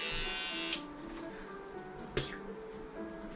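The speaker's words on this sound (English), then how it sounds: "I think I'm gonna just cut it how I shave my head" An electric shaver runs over a bald head, a close, high buzzing that shifts in tone as it moves across the scalp, with a brief louder scrape partway through.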